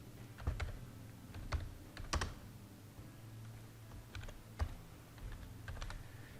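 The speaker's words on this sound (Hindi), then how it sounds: "तो मैं यहाँ पर टाइप कर देता हूँ वर्ल्ड अपडेट।" Someone types on a computer keyboard, close and quiet, in short irregular bursts of sharp key clicks. Nobody speaks.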